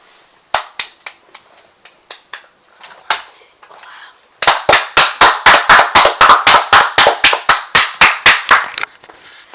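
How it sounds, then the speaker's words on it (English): Close, loud hand claps during a livestream of a Fortnite grand finals: a few scattered claps, a pause, then a fast, steady run of sharp claps. "Everyone clap it up!"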